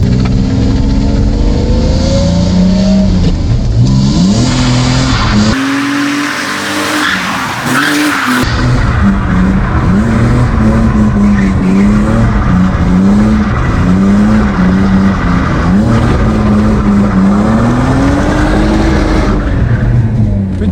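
BMW E30 drifting at a drift event, with long loud tire squeals over a revving engine that swings up and down in pitch, continuous and close throughout.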